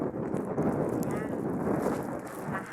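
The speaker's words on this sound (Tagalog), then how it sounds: "Mahangin pa naman." Strong wind gusts outdoors over a flooded neighbourhood, blowing steadily and loudly into the microphone and roaring throughout with rumbling buffeting, while a voice talks faintly underneath.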